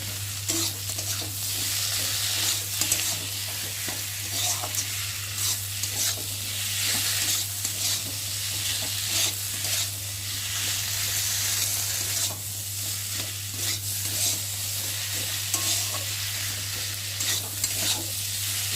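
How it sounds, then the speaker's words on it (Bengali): Spice paste of ground ginger, cumin and garlic with chopped tomato, plus chilli powder and salt, stir-fried in a pan for a morola fish curry: a steady close sizzle with repeated scraping stir strokes, no talk, over a constant low hum. "আদা বাটা, জিরে বাটা, রসুন বাটা, একটা টমেটো কুচি দিয়ে মশলাটা ভালো করে কষিয়ে নেব।"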